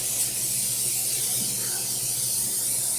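A baking pan being coated with cooking spray: a steady, close hiss of aerosol spray lasting about three seconds without a break, with no talking.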